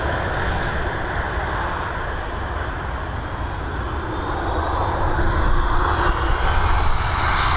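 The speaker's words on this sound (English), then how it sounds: "London Heathrow bound, this Airbus A320." Airbus A320 jet taking off at Dublin Airport, a steady, loud roar of engines that builds gradually and grows brighter and louder toward the end, with no voices.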